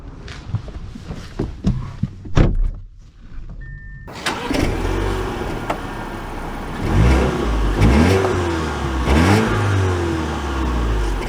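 A 2024 Audi A5 car drives off and accelerates, with quiet engine and mechanical sounds before a steady, louder road and engine roar with rising revs that builds and swells throughout.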